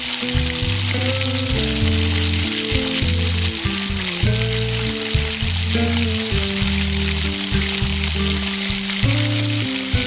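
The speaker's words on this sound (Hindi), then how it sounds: "गरम हो जाने पर जो हमने पोटैटो फ्लावर्स रेडी किए हैं उन्हें शामिल करेंगे और इन्हें फ्राई कर लेंगे।" Potato flower snacks deep frying in hot oil, a loud, dense, continuous sizzle and bubbling that stays steady throughout, close up with no speech.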